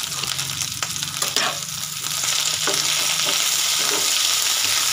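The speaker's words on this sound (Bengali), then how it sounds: "সবগুলো একসাথে কিছু সময় ধরে হালকা করে ভেজে নেব।" Carrot, capsicum and salt fry together in a pan with a dense, continuous sizzle that swells louder midway, with occasional soft stirring knocks and no speech.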